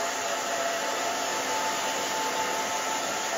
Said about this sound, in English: now we are going to dry the back down